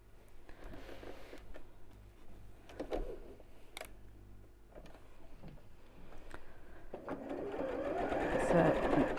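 A domestic sewing machine stitches along the edge of fabric for a bowling bag, its motor whirring steadily in bursts with brief pauses and growing louder toward the end, while someone talks over it.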